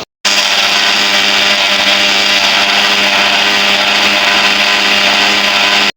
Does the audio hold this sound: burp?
no